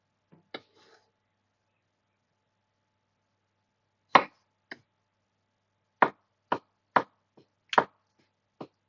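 A knife chops an aubergine and walnut salsa ingredients on a cutting board: isolated sharp, close thuds, first a couple of single knocks, then a quicker run of evenly spaced chops against silence.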